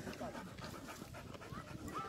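A dog panting steadily at a lakeside picnic, close and continuous beneath people talking nearby over outdoor background noise.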